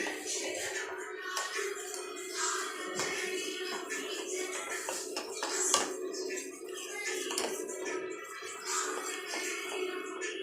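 Rava kesari being stirred in a pot, continuous metallic scraping and clinking of a spoon against the pot bottom, steady and fairly close throughout.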